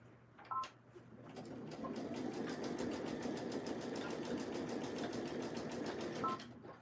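Home sewing machine stitching steadily at a small stitch length, a fast even whir with rapid regular needle clicks running for several seconds, close and clear, with a brief louder knock near the start.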